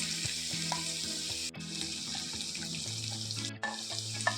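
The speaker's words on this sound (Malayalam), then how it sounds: "ആദ്യം തന്നെ ഇഞ്ചിയുടെ പീസ് ഇടാൻ പോകും." Ginger pieces dropped into hot coconut oil for a Kerala clam meat roast give off a steady, close sizzle and crackle, with a few brief dips and soft clinks of a utensil stirring, and no talk.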